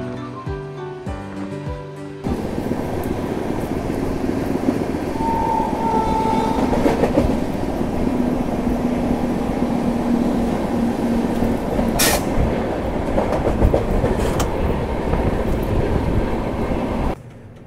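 A Rajdhani Express rolls along in heavy rain while overtaking the Vikramshila Express, its loud, continuous rumble and wheel clatter building after a brief quieter start, with a sharp burst midway and a fade at the very end.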